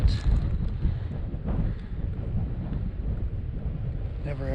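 Strong wind buffeting the microphone on open hunting ground during a Utah antelope hunt, a loud, continuous low roar with gusty surges throughout.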